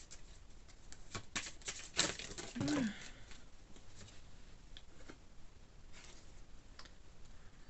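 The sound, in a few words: shuffling and drawing tarot cards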